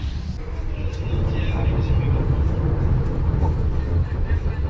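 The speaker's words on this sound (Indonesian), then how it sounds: "kereta api Gajayana telah tiba di stasiun Blitar" The Gajayana executive train, with its new-generation stainless steel carriages, pulls into Blitar station with a steady, heavy low rumble that holds evenly throughout.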